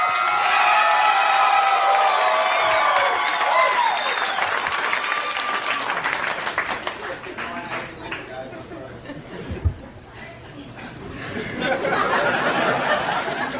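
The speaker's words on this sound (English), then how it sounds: "the roaring fucking applause" Loud roaring applause from a large live audience fills the clip, with cheering, laughter and chatter mixed in; it thins and fades partway through before swelling again near the end, with voices talking over it.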